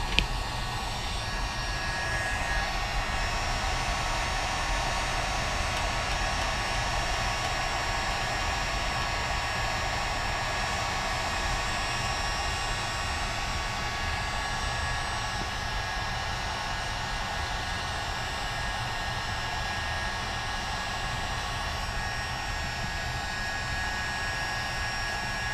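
A heat gun blows a steady, unbroken airy roar while softening Liquid Nails construction adhesive, close and constant throughout with no speech.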